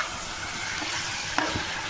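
Washed country chicken dropped into a pan of fried onions, giving a steady, close frying sizzle and hiss with a brief clink of stirring near the end.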